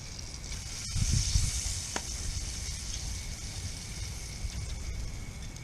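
Grilled ham and brie sandwich sizzling in a pan at a parking-lot cookout, a steady close hiss of frying with a brief louder burst of crackle near the start and a faint clink.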